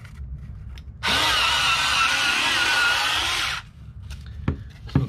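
SakerPlus cordless electric scissors cut through thin cardboard about 1/8 inch thick, a steady motorised buzz with a rough cutting rasp that runs continuously for about two and a half seconds, then stops, leaving a few faint handling knocks.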